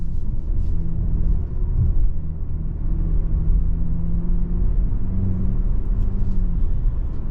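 Cabin of a 2023 Lincoln Corsair Standard II AWD driving over bumpy tarmac: a steady loud low road rumble and engine drone, with soft thumps from the surface and no voices.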